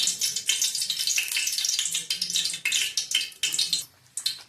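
Cooking oil, about two large spoonfuls, poured into a hot pan while preparing Ghati-style spicy mutton curry, giving a steady bright sizzle and crackle that swells and fades in bursts, close and fairly loud.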